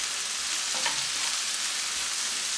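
Onion and sausage with spices fry in a pan, a dense steady sizzle with a brief utensil scrape as they are stirred.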